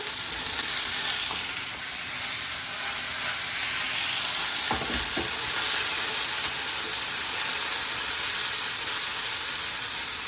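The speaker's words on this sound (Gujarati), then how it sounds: "We are going to add the peas now." Green peas dropped into hot oil with asafoetida and bay leaves set off a loud, continuous close-up sizzle that hisses evenly throughout, with one dull thump partway through.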